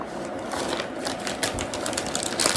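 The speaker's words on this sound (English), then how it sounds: "And put it in the vacuum seal bag." Vacuum sealer drawing air from a bag holding steak with rosemary, ready for sous vide cooking; a continuous dense mechanical whir with rapid clicking texture, steady and fairly loud throughout.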